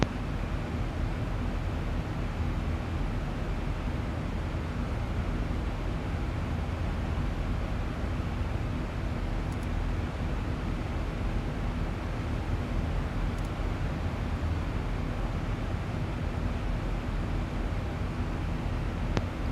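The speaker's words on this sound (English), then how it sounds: "That's actually the sound of the engine." Boeing 737-800 engines in a flight simulator give a steady broadband jet drone mixed with wind-like hiss, constant and unbroken throughout.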